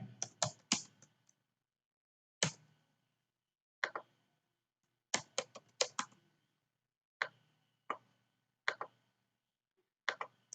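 Someone fills in a registration form on a computer keyboard: short clustered bursts of key clicks separated by silent pauses, close and fairly quiet, with no talking.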